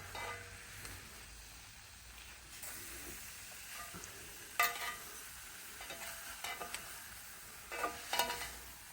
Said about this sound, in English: Steaks are cooking nicely.